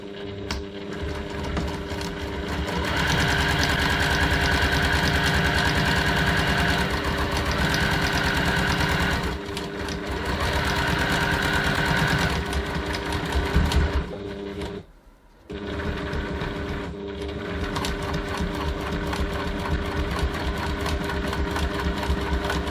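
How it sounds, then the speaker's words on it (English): A sewing machine bastes the top edge of a bag flap at a quarter-inch seam allowance, its steady whirring hum running loud and close, with a short dip near the middle and a brief stop before it resumes. "now I'm just going to base this top edge of our flap using a 1/4 of an inch"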